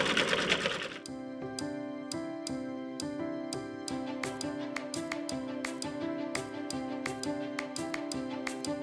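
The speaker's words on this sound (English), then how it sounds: "The machine tells us it's finished sewing." An embroidery sewing machine stitches fine rose details onto a greeting card, a steady rapid rhythmic clatter with sharp regular needle strikes, close and fairly loud, running alone after a brief burst of noise at the start.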